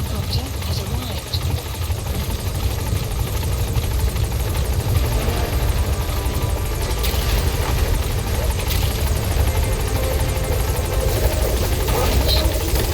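A support helicopter in Metal Gear Solid V: The Phantom Pain hovers over a landing zone, its steady rotor thrum and engine drone loud and constant throughout, with radio voices talking over it.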